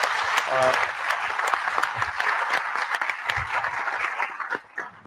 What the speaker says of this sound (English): So I would again request a huge applause for both of them.